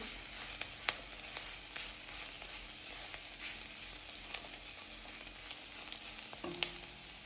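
Ghevda bhaji sautéing with turmeric and homemade red chilli masala, a continuous soft sizzle broken by spatula scrapes and taps against the pan, with a brief low hum near the end.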